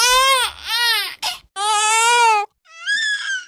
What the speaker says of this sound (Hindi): किसी सियार के बच्चे की रोने की आवाज सुनाई दी